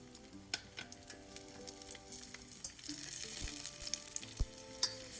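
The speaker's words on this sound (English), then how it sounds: "my pan, I add my oil and stir fry garlic and ginger." Crushed garlic and ginger stir-frying in oil in a pan, a quiet constant sizzle with occasional clicks and scrapes from stirring. No voices are heard.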